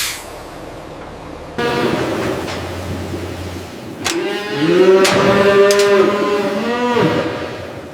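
Cattle in a modern slaughterhouse moo loudly, several deep drawn-out calls over a steady mechanical background hum and clatter.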